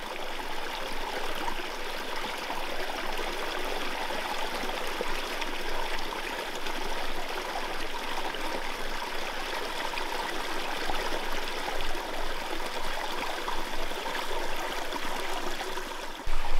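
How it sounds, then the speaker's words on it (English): A small running brook on a large rural property babbles and trickles in a constant, even wash of water, close and steady throughout with no voices. "we stopped at one of the little running brooks and we were looking at it and we saw little fish"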